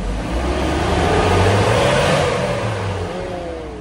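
A Ford Everest 2.2 diesel engine revs steadily toward 4,000 RPM, giving a loud, continuous, close drone that holds and climbs slightly in pitch near the end.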